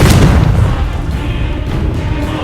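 A Confringo fire spell blast in Hogwarts Legacy, a loud booming burst that hits at once and then rumbles and fades away over a couple of seconds.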